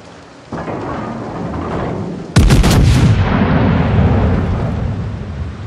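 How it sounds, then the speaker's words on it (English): Warship artillery in World of Warships, a rapid salvo of heavy naval guns firing a few seconds in, loud and booming, followed by a long rumbling roar over steady ambient sea and engine noise. "Concentrate fire on the enemy warship."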